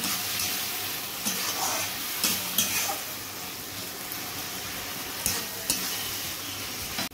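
Spice masala for a potato chicken curry frying and being stirred in a pan, a continuous close sizzle broken by regular scraping and tapping strokes of the spoon, with no talking.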